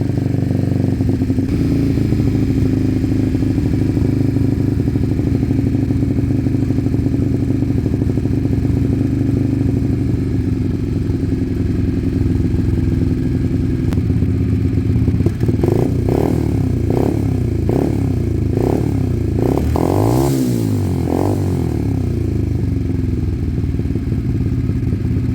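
A Sinnis Cruisestar 125 motorcycle fitted with brand new carbs runs close by at a steady idle with the choke half on, then gives a series of short blips and a louder clattering rev near the end.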